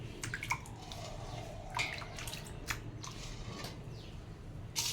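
Water sloshes through split dal as the husks are washed off by hand, giving faint splashes and scattered drips with a few sharper wet pops against a quiet background.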